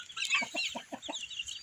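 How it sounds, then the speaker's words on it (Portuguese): Several chickens, including a red Caipirão meat breed, cluck in a quick run of short notes at moderate distance, with softer higher clucks layered over them. "Junto com as galinhas."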